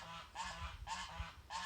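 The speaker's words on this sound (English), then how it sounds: "And there's the geese." Geese honk repeatedly in a steady rhythm, three nasal calls in quick succession, fairly faint and somewhat distant outdoors.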